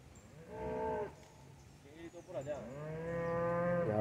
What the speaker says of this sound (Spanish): La otra vaca grandota.